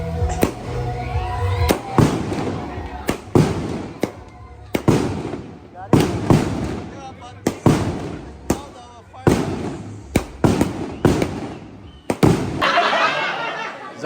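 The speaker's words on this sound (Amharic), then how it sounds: "ርችት ልንጀምር ነው እንግዲህ።" Fireworks set off at a dance in a remote Chinese village, a series of sharp loud bangs spaced a second or two apart, each trailing into crackle and rumble, with people talking between the blasts.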